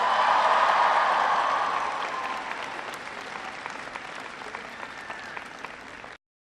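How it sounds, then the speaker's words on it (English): Crowd at a college affordability event in Michigan applauds members of Congress, a loud burst of clapping with some cheering that peaks at first, then thins to scattered claps before cutting off. "Give them a round of applause."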